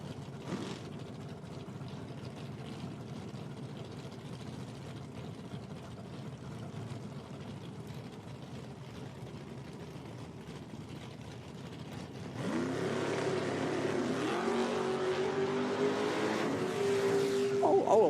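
Camaro drag racing car at an IHRA Outlaw Nitro Series event, a steady distant engine drone down the strip that turns suddenly louder and harsher partway through, with faint background voices.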